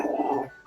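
Dog growling during play, a short low throaty whine-growl lasting under a second, close and fairly loud, tailing off into quiet.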